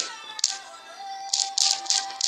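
Someone taps a phone number into a mobile screen, a few quick close taps spaced irregularly over a faint steady tone, with no one speaking.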